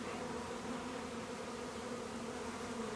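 Bees inside a hive box hum in a steady, even drone that holds at a constant, moderate level throughout, with no voices over it.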